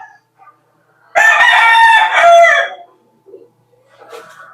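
A gamecock rooster at a game farm crows once, a loud, close, drawn-out call of about two seconds, with faint clucks and quieter fowl sounds before and after.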